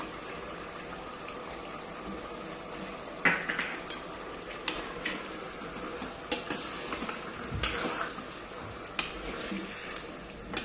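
Mutton frying with ginger garlic paste sizzles softly in a pan. A spoon stirs it now and then, scraping and clinking against the metal at irregular intervals.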